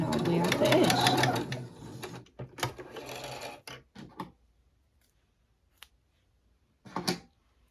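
A sewing machine edge-stitches tote bag straps, whirring steadily and close for a few seconds before slowing into short bursts and stopping, with a few light clicks afterward and a voice talking over part of it.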